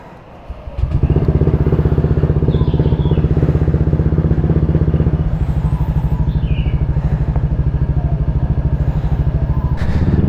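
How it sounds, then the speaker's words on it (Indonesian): A Honda Vario 160 scooter engine, two years old, starts up and then idles loud and close, a steady rapid thrum of firing pulses that holds evenly for about ten seconds. "sekarang gue mau manasin motor keliling-keliling aja"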